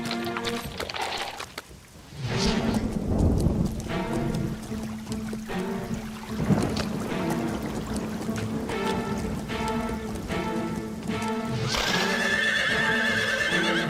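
Cartoon horses whinny and neigh in a storm, with clip-clop hooves and a rushing rain-like wash filling the background; several loud, drawn-out neighs rise over the steady noise, with no talking.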